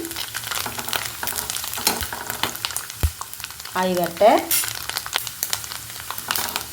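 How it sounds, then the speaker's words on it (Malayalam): Grated coconut fries in oil over a medium flame with a steady, crackling sizzle that swells and eases as it is stirred, and a voice speaks briefly over it. "നാളികേരം ഇങ്ങനെ എണ്ണയിൽ മുങ്ങിക്കിടക്കണം എന്നാലേ നന്നായിട്ട് വറുത്തെടുക്കാൻ പറ്റുള്ളൂ"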